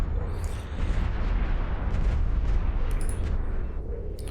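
Frigate weapons in a space video game striking several ships at once, a dense continuous rumble of booming blasts and bursts, loud and close, with no voices.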